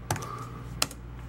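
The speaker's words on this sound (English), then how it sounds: "I'm typing this, but it's..." Keys being typed on a computer keyboard running a Windows 8.1 Pro preview: two short clusters of crisp taps, close and fairly quiet, with no voices.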